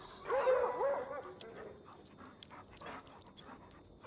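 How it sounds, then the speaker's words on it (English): Dogs in the video game Far Cry New Dawn whimper and yip in high, wavering cries near the start, then fade to faint scattered whines and light panting over a quiet game background. "Scared little doggies."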